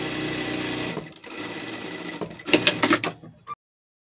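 A sewing machine stitches a hem on the pockets of a fabric pet carrier bag: a steady close mechanical whir that slows briefly, speeds into a few louder clacking stitches, then stops abruptly.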